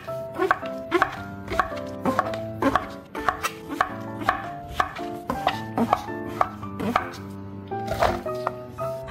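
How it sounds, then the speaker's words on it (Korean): A knife slicing about 400 g of king oyster mushrooms into bite-size pieces on a cutting board, with steady, fairly close chopping knocks repeating at an uneven rhythm and no talking. "요거는 이제 먹기 좋은 크기로 한번 썰어 볼게요."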